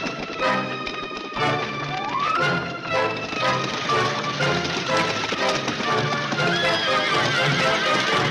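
Horses whinny and hooves clatter in a busy film scene, with one clear rising neigh over a dense, loud mix of galloping and clashing sounds.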